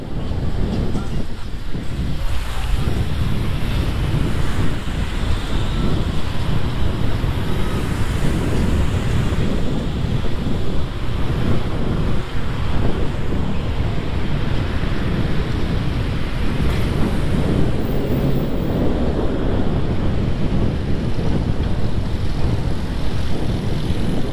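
Steady wind buffets the microphone throughout a coastal bike ride near downtown Hyannis on Cape Cod, a continuous loud low roar with gusty surges and no talking.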